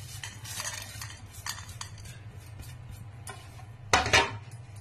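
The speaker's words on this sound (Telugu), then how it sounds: "మీడియం ఫ్లేమ్లో పెట్టుకొని ఇవి వేయించుకున్నాము. ఇప్పుడు మనం ఇందులో మిరియాలు కూడా వేసేద్దామండి." A spoon stirs peppercorns with other spices frying over medium flame in a pan for tomato rasam. Close metallic scrapes and clinks repeat over a faint sizzle, ending in a louder burst of scraping.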